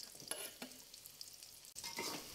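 Petai beans stir-fry with garlic and shallots in oil, giving a short close sizzle broken by a few scraping stirs, with no talking.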